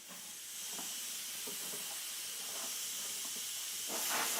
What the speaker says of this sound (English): That's as loud as my compressor gets, and it doesn't vibrate.